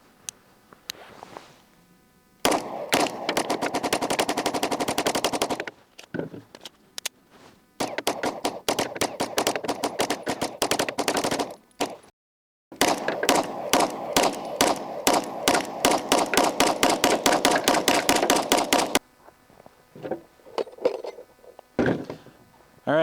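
Springfield Prodigy pistol firing 124-grain full metal jacket rounds in long rapid strings, shot after shot in quick succession with brief pauses between strings, loud and close.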